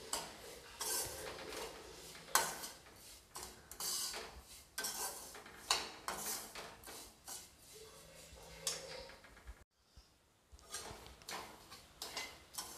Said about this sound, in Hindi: अब मैं इनको बिल्कुल अच्छे तरीके से गोल्डन ब्राउन होने तक भून लूँगी मैं लो फ्लेम पे ही भूने